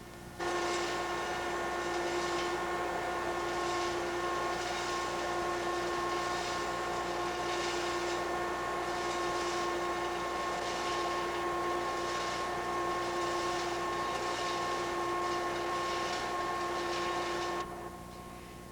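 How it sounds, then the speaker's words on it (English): Coal drops into the feed pipe of a pulverizing system, making a steady rumbling hiss with a faint rhythmic pulse over strong, constant machine tones for about seventeen seconds before it cuts off. "The sound you hear is the coal dropping into the pipe."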